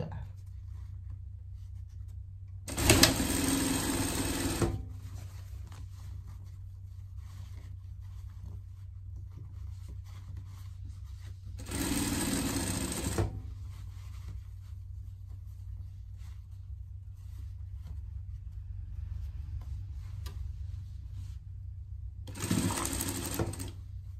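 A sewing machine stitches a denim pet vest in three separate runs, each a few seconds long. Quieter pauses fall between the runs, and a steady low hum continues underneath throughout.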